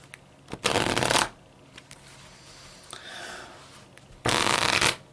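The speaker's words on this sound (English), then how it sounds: "Cut the deck in half and try and get that nice even sound with both hands at the same time." Two bursts of riffle shuffling, a deck of cards flicking rapidly together, each lasting under a second, separated by quiet rustling.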